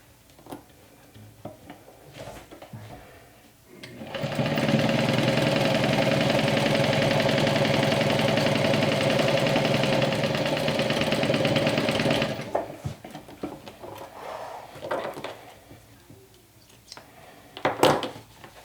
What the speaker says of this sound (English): And you're gonna sew this like so.